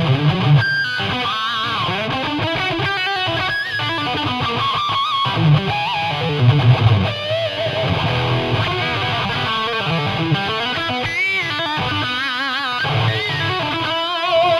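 Heavily distorted electric guitar plays loud, sustained notes and bends, with a thick, saturated tone throughout and no voices.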